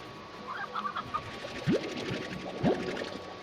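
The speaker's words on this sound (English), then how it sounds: "come here, chicken." Chickens cluck in the farm game Slime Rancher, with a few soft clucks early on and two sharp rising calls later, over a steady low game-world background.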